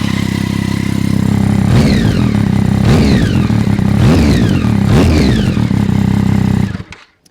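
A first-generation Triumph Street Triple's triple-cylinder exhaust blips through four sharp, close revs over a steady idle, each rise snapping up and falling away before the engine cuts off.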